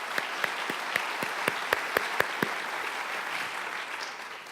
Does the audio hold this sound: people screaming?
no